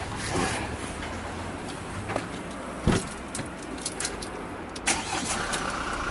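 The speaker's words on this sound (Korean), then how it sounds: "자 이제 시동 한번 걸어볼게요" A Hyundai Grand Starex camper van's engine is started, with a short crank burst standing out against a steady background hum and scattered faint clicks, and no talk heard.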